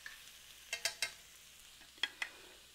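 Pickled mustard greens being stir-fried in a pot before braising with fish, with a faint sizzle under a few sharp metallic scrapes and taps of a utensil stirring, close and otherwise quiet.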